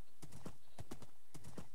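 Horse hooves clip-clop in a steady, rhythmic pattern in Minecraft, with repeated loud bursts close by and no speech heard.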